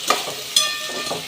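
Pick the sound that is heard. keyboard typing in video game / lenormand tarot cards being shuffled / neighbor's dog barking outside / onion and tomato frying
onion and tomato frying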